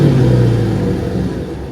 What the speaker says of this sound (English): So you can definitely hear that exhaust.